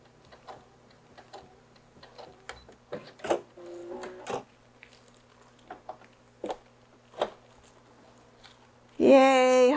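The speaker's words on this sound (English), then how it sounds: "And back stitching." A sewing machine back stitching on a Baby Yoda shark week summer outfit, with short bursts of stitching and ticking clicks at a fairly close range, ending in a loud, steady whirring run at the close.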